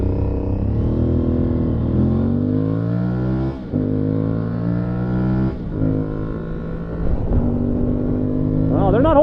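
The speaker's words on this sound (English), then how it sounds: "So this is a bike with a fun amount of power." An Aprilia Tuareg 660 adventure motorcycle's engine revs and accelerates through several gear changes on an on- and off-road ride, steady close drone with rising pitch sweeps and brief dips between shifts, continuous and loud.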